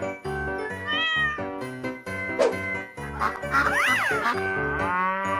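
A cow moos over loud, rhythmic background music, its drawn-out calls rising and falling in a few bursts mid-clip.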